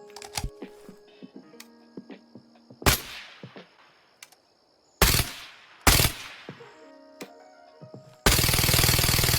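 A Kriss Vector fires in Incursion Red River, first in sparse single and burst shots separated by mechanical clicks, then a loud sustained full-auto stream at the end.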